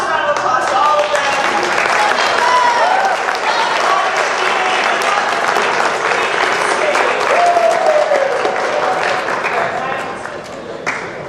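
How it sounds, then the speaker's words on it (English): Audience applause at a high school poetry slam, a loud, sustained round of clapping from a crowd that carries through the whole stretch before tapering off at the end. "let's give one last round of applause to all of them."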